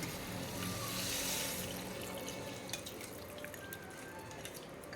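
Water is poured into a pan for brinjal curry, a soft close trickle and splash that swells early and tapers off, ending with a faint knock.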